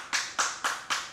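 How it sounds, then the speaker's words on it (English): Hand claps on a film set, four sharp evenly spaced claps close by, each decaying quickly, with no talk. "we only need one clap"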